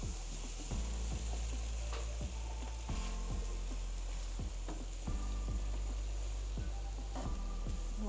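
Cooked egg being stirred into chicken egg fried rice in a hot pan, with steady sizzling and frying under repeated scraping, clanking strokes of a spatula against the metal.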